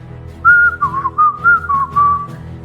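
A person whistles loudly with a wavering, bird-like melody, several short rising and falling phrases close by and alone.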